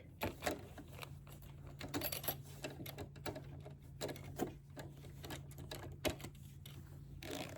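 A sewing machine stitches a zipper pocket on a bag with steady, rapid mechanical ticking and whirring. The sound is fairly quiet and close, with small bursts of louder clicks through the stretch.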